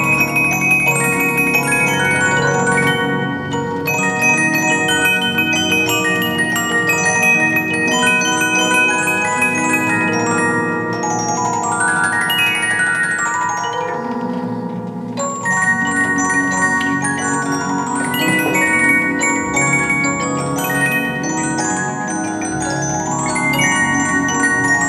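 A 12-inch disc music box with a Mermod Freres movement plays a steady tinkling metallic melody of many plucked notes, close and continuous, with no voices.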